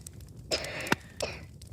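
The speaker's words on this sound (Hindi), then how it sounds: "जैसे जैसे आग बढ़ती गई, धुआं भी बढ़ता गया और वो खांसने लगी।" A woman coughing from smoke in a horror tale, a few short, rough coughs and throat-clearing bursts, fairly close but soft, spaced about a third of a second to half a second apart.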